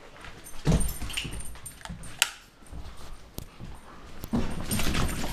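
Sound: dog whimpering

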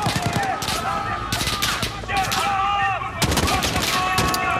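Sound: gunfire in Modern Warfare video game

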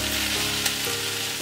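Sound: sautéing cabbage stir fry in pan

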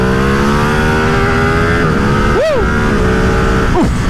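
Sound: Ducati Streetfighter V2 motorcycle engine accelerating

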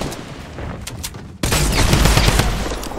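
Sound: gunfire in Fortnite video game

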